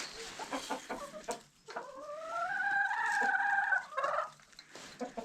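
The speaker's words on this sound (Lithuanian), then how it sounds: "Matosi, ten tupi vištos." Farmyard hens cluck in a series of short, fairly quiet calls, then give a longer drawn-out vocal call in the middle before the clucking resumes, with no talk.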